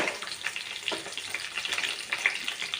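Ginger and asafoetida hit hot oil already holding dry red chillies and curry leaves, a tempering for South Indian curd rice. The close, steady crackling sizzle stays dense throughout, with small popping bursts and no voices.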